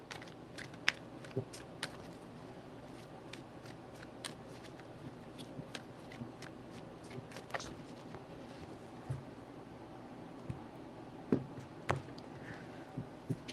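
Tarot cards are shuffled by hand in soft, irregular riffles and taps, with light slaps of the deck and faint rustling, close and quiet, with no voice.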